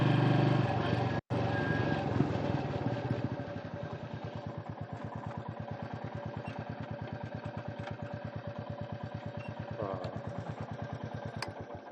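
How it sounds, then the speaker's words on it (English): A Royal Enfield Meteor 350 motorcycle with its 350cc engine idles nearby in a steady, even thump-thump pulse, after a brief louder burst and a sharp click at the start. "riding a Royal Enfield, made in India, Chennai, 350cc engine, 20 horsepower"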